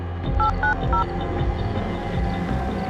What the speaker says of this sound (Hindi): ऐसा कर बब्बी को फोन लगा